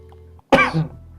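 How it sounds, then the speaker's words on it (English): A single sharp cough, close and loud, breaking a quiet background and trailing off quickly. "gives a cough"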